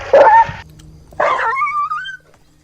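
A farm dog yelps after an electric shock: two sharp, loud cries close by, the second stretching into a long, rising whine before it fades.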